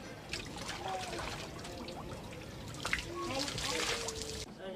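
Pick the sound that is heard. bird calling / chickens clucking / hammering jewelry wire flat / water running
water running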